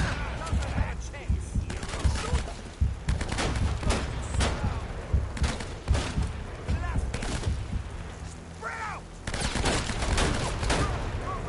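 Shotgun blasts and other gunfire in a firefight in Uncharted: Drake's Fortune, a loud, dense run of sharp bangs throughout, mixed with game sounds and a voice talking.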